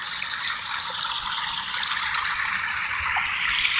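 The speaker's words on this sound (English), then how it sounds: "Hear that water?" Creek water runs over limestone rocks in a steady, hissing gush with a faint rattle. It sounds close and continuous, grows slightly stronger toward the end, and has no talking over it.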